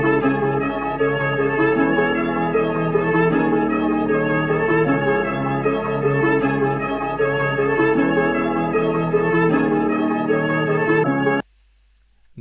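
A pitched-down melodic sample for a trap/drill beat, layered with faint vinyl crackle, plays as sustained chords in a steady loop, then cuts off abruptly near the end.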